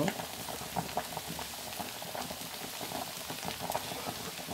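Mushrooms sizzling in a pan with onions and peppers, a steady dense crackle and spatter with scattered pops throughout, close and continuous.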